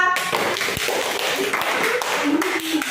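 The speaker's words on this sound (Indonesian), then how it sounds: "Tepuk tangan untuk kelompok 2." A class of fifth-grade students clapping hands in a steady, dense patter that carries on for a few seconds, fairly loud and close, with no pauses.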